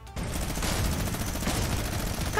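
Sustained rapid gunfire in the online shooter game Fortnite, a dense, loud continuous burst of automatic shots with almost no pauses.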